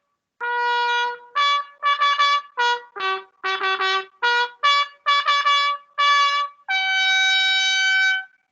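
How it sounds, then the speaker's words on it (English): Trumpet played up close in a room, with a string of short separate notes, some quick and repeated, ending on a longer held tone, all with bright, clear tone and no talking. "trumpet. Here are the parts. Blow through here, change the notes with the vowels, and it sounds like this."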